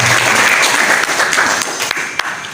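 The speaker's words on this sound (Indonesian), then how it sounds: "Sekali lagi tepuk tangan untuk Yana." Audience applause at a formal talk: a dense, steady wash of many hands clapping, fairly loud and close, with a few sharper claps standing out as it slowly thins near the end.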